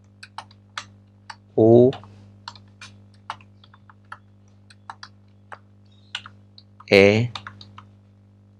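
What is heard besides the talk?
typing on a computer keyboard while coding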